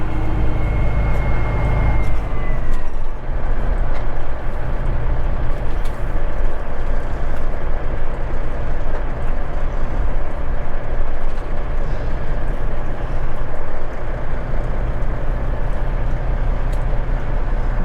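Straight-piped semi truck rolling slowly with a deep, loud, continuous engine drone and rumble heard from inside the cab, steady throughout with a faint whine fading early and no talking.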